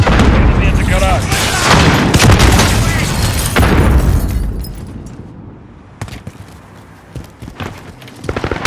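A grenade goes off in a Call of Duty Modern Warfare Team Deathmatch multiplayer match. A loud, close boom opens and rumbles away, then scattered sharp gunshots crack over quieter battlefield noise.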